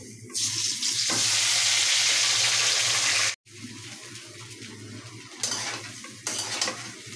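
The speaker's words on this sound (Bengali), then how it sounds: "পাঁচ ফোড়ন আর মরিচটা দিয়ে দিছি এখন আমি আমগুলি দিব" Mango pieces drop into hot oil with panch phoron and chilli for a sweet-sour mango pickle, bursting into loud, steady sizzling frying that cuts out briefly, then returns with stirring and flaring surges; no voices.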